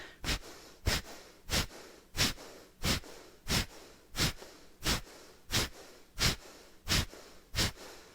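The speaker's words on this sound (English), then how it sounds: "So breath of fire on the exhale, think drawing the belly back towards the spine." Rapid, forceful nasal exhales of yoga breath of fire in an even rhythm, about twelve sharp puffs of breath, close and clear with quiet gaps between.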